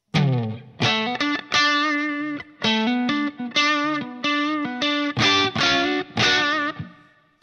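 An electric guitar played through a Line 6 Pod HD500 Class A-15 amp model based on the Vox AC-15, a loud, driven melodic line with sustained notes and short pauses between phrases.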